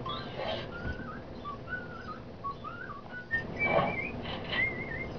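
Someone whistles a classical Mozart melody in a clear, wavering line of short phrases, fairly faint, with some background noise beneath.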